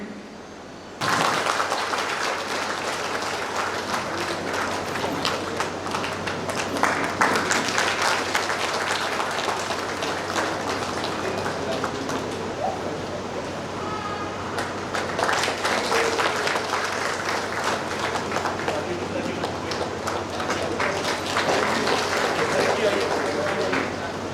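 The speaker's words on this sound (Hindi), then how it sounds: "जोरदार तालियों से स्वागत।" An audience at a meeting with village heads in Garhwa district breaks into loud, sustained applause that carries on for over twenty seconds after a brief quiet start, dipping slightly midway before swelling again.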